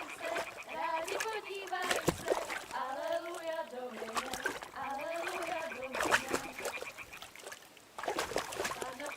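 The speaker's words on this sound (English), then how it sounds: "Throw a stone in the water near her to lure her away." In Kingdom Come Deliverance 2, a thrown stone splashes into water near a character, a short splash heard under ongoing voices and animal-like calls in an outdoor game scene.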